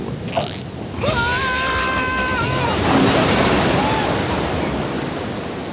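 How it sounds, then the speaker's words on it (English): A cartoon river rushes in and floods, a loud, broad roar of surging water that builds and holds steady, with a creaking, wavering squeal over the top early on. "George, make big river come this way."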